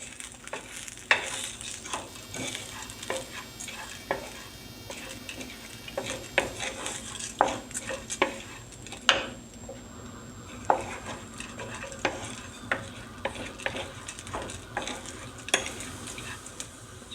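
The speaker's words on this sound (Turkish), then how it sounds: "Hafif zeytinyağında biraz kavuruyorum" Fresh broad beans are sautéed lightly in olive oil, with a soft background sizzle broken by frequent clinks and scrapes of a utensil against the pan as they are stirred, with no talking.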